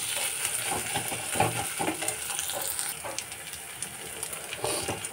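Eggplant sizzles and hisses in oil while being stirred after sugar goes in, with continuous frying crackle and intermittent scraping strokes close by.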